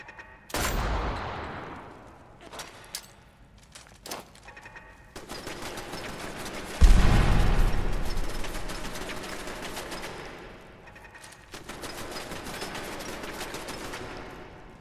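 Fallout 4 turret machine gun fire comes in sharp bursts and sustained volleys, loud and close, with a heavy, booming stretch in the middle and no talk over it.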